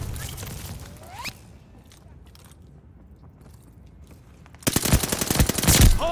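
Gunfire erupts at a hardpoint in the Call of Duty: Vanguard online shooter: a brief burst opens, a quieter lull follows, then loud rapid automatic fire dominates the final seconds.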